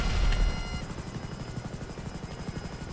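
Helicopter in GTA 5, its rotor beating in a fast, even chop with a steady engine drone, fairly loud and continuous with no talking.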